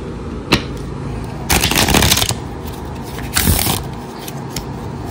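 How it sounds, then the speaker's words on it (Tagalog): A deck of playing cards is shuffled up close, with a sharp riffle near the start and two longer bursts of rapid fluttering card slaps, one mid-clip and one shortly after, against a quiet background. "Balasahin ko lang po."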